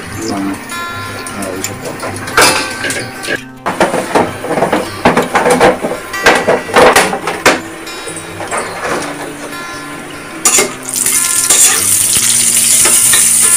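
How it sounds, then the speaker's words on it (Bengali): Bori, small lentil dumplings, fry in a pan with a loud, close sizzle, broken by irregular clattering stirs, then settle into a continuous hiss of hot oil. "এদিকে কি হচ্ছে, বড়ি ভাজা?"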